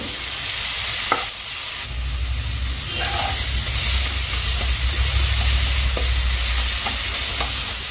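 Dried loitta fish frying slowly in a pan over low gas, a close steady sizzle with stirring scrapes and a low rumble, broken by brief clinks.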